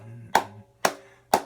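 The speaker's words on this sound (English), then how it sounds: "So just start with claps." Three crisp, evenly spaced hand claps at a steady slow beat, loud and close, with a quiet tonal hum between them, from a group starting a rhythm exercise for a song.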